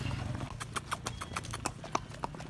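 Horses' hooves clip-clop at a ranch in Mazamitla, quick, fairly regular hoofbeats close by over a low background murmur.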